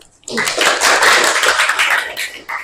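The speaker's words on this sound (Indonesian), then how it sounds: "tepuk tangan buat kita semua" Students in a junior high school class clap hands together, starting abruptly after a brief quiet moment and continuing as a close, loud patter of claps that briefly dips near the end.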